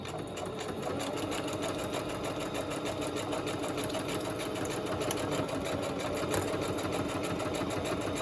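A sewing machine stitches through patterned craft paper, running in a steady, continuous mechanical whir close up for the whole stretch with no pauses.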